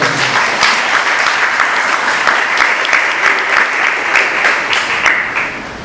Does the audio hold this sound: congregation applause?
yes